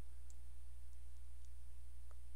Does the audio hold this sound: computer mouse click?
yes